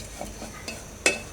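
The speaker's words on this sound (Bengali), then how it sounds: "তো এর জন্য চা পাতাটা চিনিটা পুড়ে নিচ্ছি বরাবরের মতোই" Tea leaves and sugar are roasted and stirred in a pan, with faint soft scrapes and a low sizzle, then one sharp metallic clink of the utensil.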